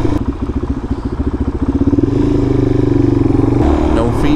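A Suzuki DRZ400 dual-sport motorcycle engine runs while riding, thumping rhythmically before settling into a steady, loud drone, close to the microphone, with a rider talking over it.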